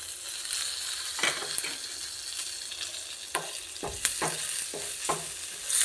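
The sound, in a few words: drumstick leaves frying in tempering oil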